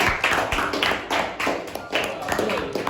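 Scattered clapping from a small group, uneven bursts of hand claps with some chatter mixed in, moderately close.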